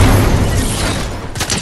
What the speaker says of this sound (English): I can boogie bomb them.